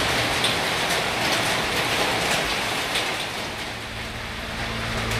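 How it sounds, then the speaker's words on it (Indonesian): Heavy rain falls steadily as a dense, constant hiss that stays loud and unbroken throughout, with a low rumble underneath and no voices. "Hujannya gede banget nih, mendingan nunggu reda dulu."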